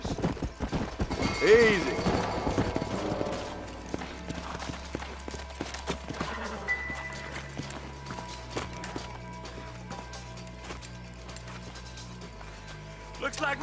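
Horses' hooves clip-clop at a walk in the western video game Red Dead Redemption, with steady, distinct hoofbeats and faint mechanical clicks under a low musical drone, and someone speaks briefly.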